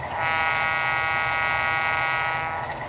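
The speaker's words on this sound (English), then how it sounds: "F2 is air horn." A loud, steady, harmonic air horn blast from a Walthers Mainline Alco PA/PB model locomotive with DCC sound, held for nearly three seconds with a brief onset and gentle fade.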